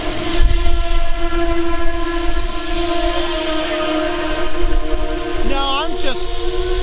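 An Amtrak P42DC diesel locomotive rumbles steadily nearby, its engine drone loud and continuous, with a brief horn-like tone rising near the end.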